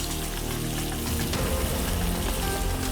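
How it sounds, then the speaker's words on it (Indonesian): Quartered green tomatoes with lime leaves stir-fried in a hot pan, giving a steady, fairly loud sizzling hiss that crackles continuously throughout, with no talk. "Tumis saja."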